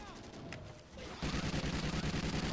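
Enemy gunfire in the Call of Duty: Ghosts Extinction Nightfall mode: a rapid run of loud automatic shots fires steadily through the second half, following quieter game ambience.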